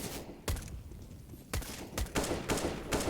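AK rifle fire in Counter-Strike on the Overpass map during a pro league match, several short sharp bursts spaced irregularly, fairly close, with no talk.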